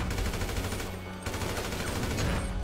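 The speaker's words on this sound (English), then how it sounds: "this shotgun is fucking OP" Shotgun fire in the GTA 5 Online video game comes as a rapid cluster of loud blasts and echoing bangs filling the whole moment, with a brief lull midway.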